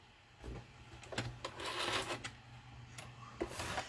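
A sewing machine stitches around the outside edge of fabric for a small dinky mini project in several short, close, rattling bursts with brief pauses between them.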